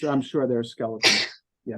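A single sharp, breathy sneeze bursts out in the middle of a Bible class discussion, close and loud, with people talking just before and after it.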